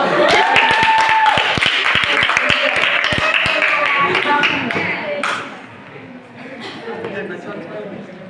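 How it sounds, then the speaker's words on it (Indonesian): A classroom full of people clapping briskly for several seconds, with voices mixed in, before the clapping fades out. "Boleh tepuk tangan sekali lagi."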